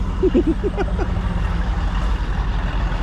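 A Minneapolis-Moline 900 six-cylinder diesel tractor engine rumbles steadily close by at a farm show, a low continuous chugging with a few brief voiced sounds near the start.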